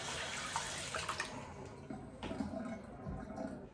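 Warm tap water runs while a face is rinsed before shaving, a steady splashing flow close by with small irregular spatters, no voices.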